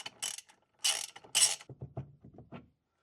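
Hand tools removing a car steering wheel, a quick run of ratcheting clicks and mechanical rattles, close and moderately loud, in short bursts that end in a few separate clicks.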